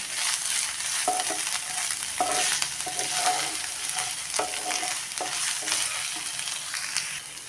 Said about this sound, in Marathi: हिरव्या मिरचीचं ठेचलेलं वाटण टाकून घेऊया ते पण आपण मिरचीचा कच्चापणा कमी होईपर्यंत चांगलं परतून घेऊया